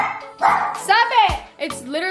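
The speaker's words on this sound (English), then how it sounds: "what are you doing to make them bark?" Dogs bark and yip at close range in a home, with a few sharp barks and some whiny, rising cries, and a voice also sounds among them.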